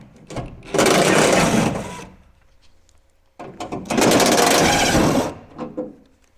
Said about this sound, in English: I'm going to unbolt the motor, or the power window regulator.